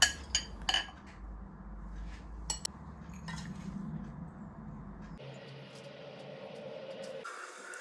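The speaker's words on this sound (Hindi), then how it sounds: "एक अच्छा सा पैन है, उसमें डिज़ोल्व की हुई कॉफ़ी डाल दें, शुगर डाल दें और साथ ही क्रीम भी डाल दें।" Dissolved coffee, sugar and cream go into a pan with a few sharp metallic clinks and knocks up front, then a steady soft pouring wash and some quieter scraping, all close by with no talking.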